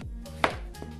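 A knife cuts a chayote (cho-cho) into chunks, with one crisp chop against the board followed by a softer second cut, close and without speech.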